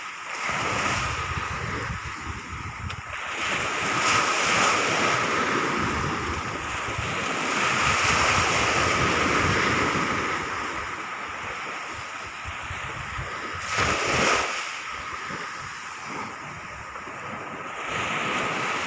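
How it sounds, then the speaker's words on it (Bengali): Rough sea surf rolling and crashing onto the beach, a steady loud roar of breaking waves mixed with gusting wind buffeting the microphone, with a couple of heavier surges rising out of the wash. "আজকে সমুদ্র অনেক উত্তাল।"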